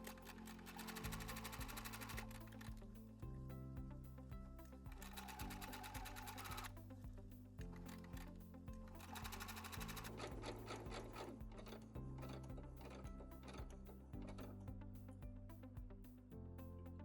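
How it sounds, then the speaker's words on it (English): A sewing machine stitches a zipper using a zipper foot, its needle hammering in a fast, steady mechanical rhythm with brief pauses and restarts, close and clear with no talking. "and simply continue sewing."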